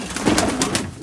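Pigeons kept by a hobby breeder coo in a short, close burst, a soft throaty murmur with a couple of brief rises, heard on their own without talk.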